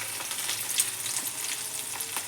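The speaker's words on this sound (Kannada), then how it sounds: "ಈಗ ಜೀರಿಗೆ ಸಾಸಿವೆ, ಸ್ವಲ್ಪ ಜೀರಿಗೆ ಸಾಸಿವೆ ಹಾಕಿನಿ ರೀ." Cumin and mustard seeds sizzle in hot oil with garlic, a steady close hiss with small crackling pops throughout and no talk.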